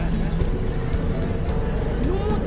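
Morning rush-hour traffic on the torn-up streets of Port-au-Prince: a steady, dense rumble of engines close by with bursts of higher hiss and passing vehicles, voices talking over it.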